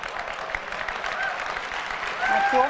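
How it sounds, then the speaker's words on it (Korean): Audience applause fills the hall at the first iPhone keynote presentation, a dense, even wash of many hands clapping that swells slightly near the end. "왜 박수 치는지 이해 안 되시는 분들 계실 거예요"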